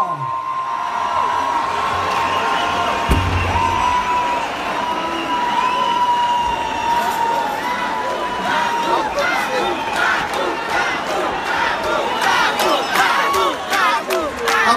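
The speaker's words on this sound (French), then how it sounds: "Applaudissez bien fort." A large live crowd at a konpa concert roars and cheers continuously, with whistles and shouts rising over a dense, loud wall of noise and faint music underneath.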